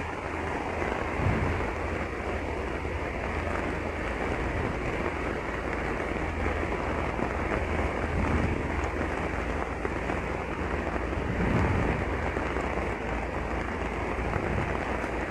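Steady, broadband roar of the Cuero River in Honduras, swollen by Hurricane Eta floodwater, continuous and loud for the whole stretch, with no voices.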